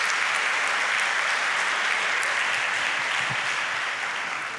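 Church congregation applauding, a dense, sustained wash of clapping from many hands that holds steady throughout and fades slightly at the end.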